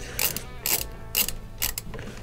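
A nut holding the blower wheel of a GE dryer being tightened with a ratchet, four quick bursts of close, crisp clicking separated by short pauses.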